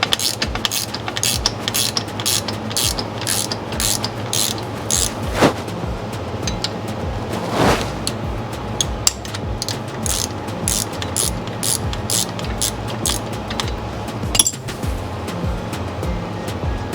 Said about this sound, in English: I'm going to use my box wrench, my 12 millimeter, to access this bolt behind the spring.